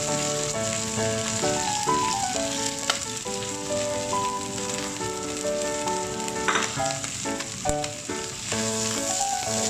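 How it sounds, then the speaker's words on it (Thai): Garlic chive flowers and liver are stir-fried in a hot pan, giving a continuous close sizzle. Scraping stirs and small clinks break through it at irregular moments. "ก็ทำการผัดคลุกเข้าให้เข้ากัน"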